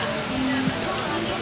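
Waterfall at Dampalit Falls in Los Baños, a dense, steady rush of falling water filling the whole clip at close range, with faint background murmur.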